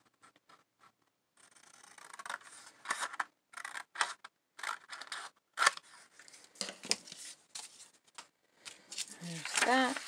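Scissors snip through paper or fabric to cut out a flower design for stenciling, a run of short close crisp cuts with pauses and rustling.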